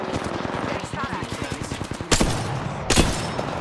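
Rapid automatic gunfire from an Apex Legends firefight, a dense rattling burst running throughout with two louder sharp shots standing out near the end, close and loud with faint voices under it.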